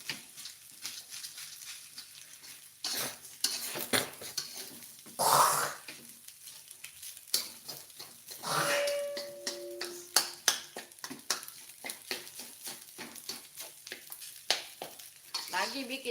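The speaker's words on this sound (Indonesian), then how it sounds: "Lagi bikin nasi goreng." Nasi goreng kampung, village-style fried rice, is stirred and fried in a pan, giving a steady sizzle broken by scraping, clattering spatula strokes and a few sharper knocks, all fairly close, with no talking.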